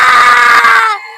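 A man in a Hindi horror cartoon lets out one loud, sustained scream lasting about a second before it cuts off abruptly.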